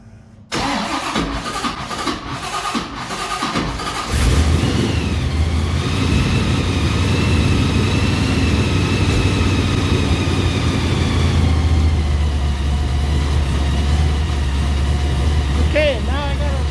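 A 1955 Chevy engine cranks with a rapid churning starter whir for a few seconds, then catches and settles into a loud, steady, rumbling idle that holds to the end.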